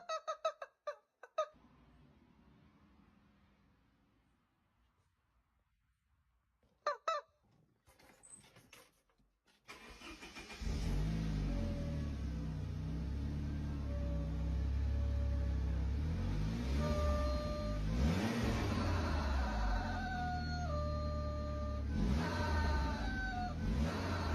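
A car engine fitted with a new turbo revs loudly and steadily after a quiet start, with squeaky, whistling tones riding over the deep rumble.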